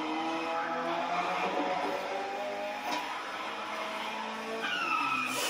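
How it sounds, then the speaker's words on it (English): Tires skid and squeal continuously as a Japanese car drifts at a Hoonigan motorfest, with a steady engine roar beneath the screeching and no talking. "I'm still learning the drifting techniques of this car."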